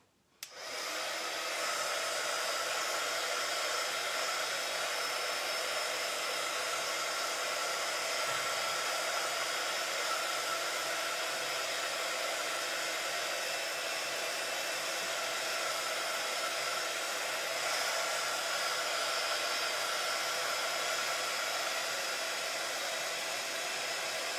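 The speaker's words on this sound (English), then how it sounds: "So I'm just going to grab the heat gun and quickly dry the top." A handheld heat gun dries the freshly coated top of an upcycled jewelry box, starting with a click and then blowing in a steady, loud, airy roar with a faint whine that holds unchanged for over twenty seconds, with no talking.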